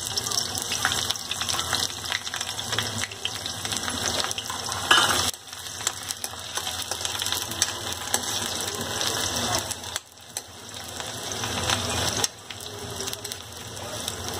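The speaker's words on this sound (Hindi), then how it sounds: "ऑयल गर्म हो चुका है, मैं इसमें अनियन डाल दूंगी" Onions tipped into hot oil for homemade desi Chinese noodles give a dense, loud, continuous sizzle with short drops and surges as they settle and are moved around.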